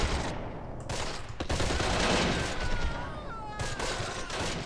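Gunfire in the Close Combat war game: a dense, sustained fusillade of overlapping machine-gun and rifle bursts, loud and continuous for several seconds, with a brief whining tone near the end.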